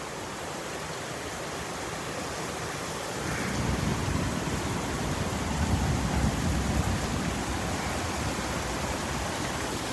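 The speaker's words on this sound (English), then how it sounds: "rain is coming down sideways" Heavy rain pours steadily during a Houston thunderstorm, a dense continuous roar that swells louder after a few seconds and holds, with no voices.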